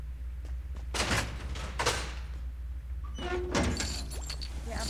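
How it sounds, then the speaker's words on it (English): Doors being shut in the Fortnite battle royale game: two sharp thuds, then a longer sliding clatter that ends in a thump, loud and close over a steady low background hum. "Closing all the doors, so I'm more secured."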